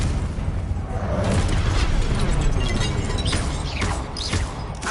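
A fire spell explosion in Hogwarts Legacy, with loud booming blasts and crackling bursts filling a dense, rumbling stretch of combat noise.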